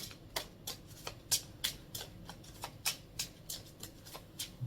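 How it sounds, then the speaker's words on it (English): Oracle cards are shuffled by hand in a quick series of crisp, close riffling bursts at a roughly regular rhythm, with no talking. "Let's get some more oracle cards here."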